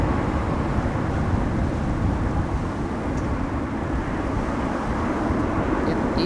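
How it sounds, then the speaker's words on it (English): A Saudia Boeing 787-10 Dreamliner arriving from Jeddah at Amsterdam Schiphol produces a deep, steady low rumble, moderately loud and continuous, with wind-like noise underneath. "Saudia in the new standard livery 787-10 Dreamliner arriving from Jeddah with Jeddah Nights"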